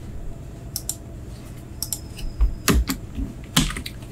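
Code typed on a computer keyboard at close range, with sparse single key taps early, then a few quick bursts of sharper, louder clacks over faint room hiss, no one speaking.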